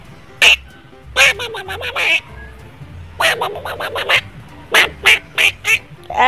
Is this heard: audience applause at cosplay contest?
no